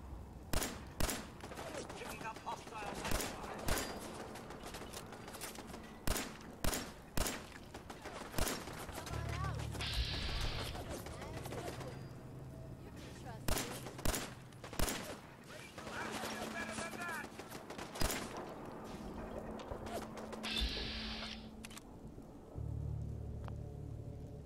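Weapon gunfire in Fallout 4, with loud sharp shots fired singly and in quick clusters across the whole stretch against low game ambience, and a player talking in between.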